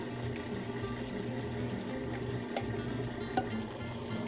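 Stand mixer with a paddle beating fat and eggs, a steady, even motor hum with a soft rhythmic churn, moderately quiet and alone, running continuously throughout.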